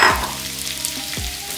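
One large sliced onion frying in five tablespoons of preheated oil for malai kofta, a loud close sizzle with two brief scraping stirs.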